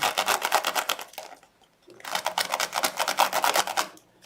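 A pen rubs back and forth over jewelry wires in rapid scratchy strokes, in two close bursts separated by a short pause.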